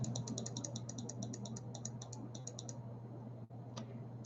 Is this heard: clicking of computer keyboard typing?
yes